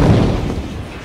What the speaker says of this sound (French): Le commandant décide alors de braquer le canon sur l'animal.